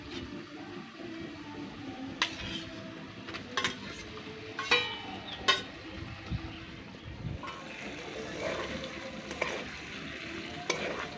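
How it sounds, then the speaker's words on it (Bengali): Pointed gourd (potol) and spice paste sizzle in a pan for a potol paneer dish, heard close and fairly quiet, with a steady fry and irregular clinks and scrapes as a spatula stirs the mixture, and no talk. "এবার পটল ও মশলা একসঙ্গে আরও 2-1 মিনিট এইভাবে কষিয়ে নেব"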